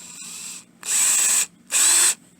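A power drill with a 3M Roloc 18730 disc whines at high speed in two sustained bursts separated by short pauses, near and fairly loud, preceded by a softer run.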